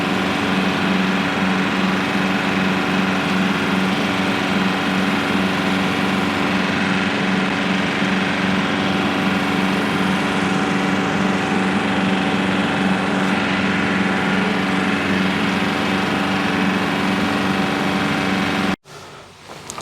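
A tractor drives a brush hog across a ragweed field, its engine droning loudly and continuously with a steady mechanical hum, then cutting out abruptly at the very end.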